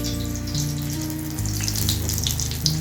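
Tap water runs steadily into a kitchen sink while food is washed during home cooking, a continuous close hiss and splash with no voices.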